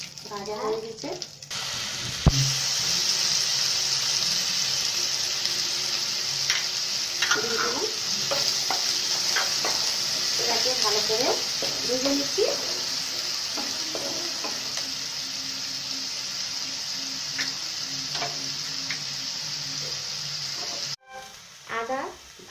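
Ginger frying in mustard oil in a pan, after cumin and green chillies have gone in: a steady broad sizzle runs throughout with scraping stir strokes, and faint background voices and other noises come and go.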